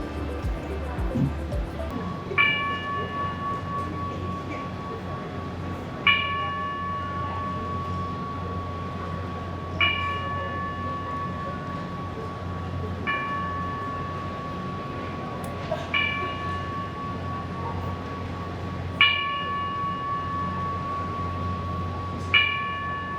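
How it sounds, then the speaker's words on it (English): Ceremonial bell at a peace festival, struck about seven times at slow, irregular intervals, each a clear ringing strike that fades over a steady low hum and faint background murmur. "The bell will be rung by Dr."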